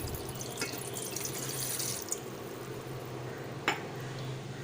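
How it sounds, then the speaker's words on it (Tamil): Coconut water is poured into a cooking pot, giving a soft, steady trickling stream for several seconds with a couple of faint clinks, fairly quiet and with no talking. "ஒரு பாத்திரத்தில் 1 கப் இளநீர் சேர்த்துக்கலாம்."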